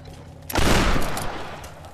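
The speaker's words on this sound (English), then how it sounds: "Oh, I like that shotgun." A single heavy shotgun blast from the Tomb Raider game, a sharp loud boom at the midpoint that trails off into a rumbling decay.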